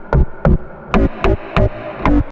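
A deep house bass patch made on a synthesizer plays six punchy, loud low notes in a steady bouncing rhythm, each with a short filtered bright edge, and there is no talking.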